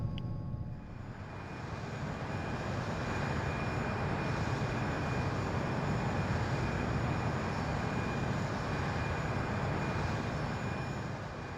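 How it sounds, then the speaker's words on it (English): Steady, loud jet engine roar of a Challenger 300 business jet in the X-Plane 11 flight simulator, flying over the expressway near LaGuardia in New York; a constant broadband drone with a faint high whine, no talk. "Challenger 300. I am in love with this aircraft."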